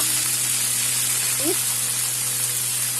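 Onions fry in hot oil with a continuous close sizzle, broken once by a brief faint squeak midway.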